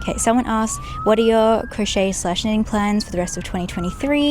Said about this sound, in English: Sorry about the sirens, by the way. This is the fun of filming outdoors.